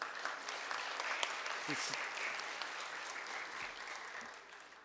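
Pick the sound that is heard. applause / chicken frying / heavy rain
applause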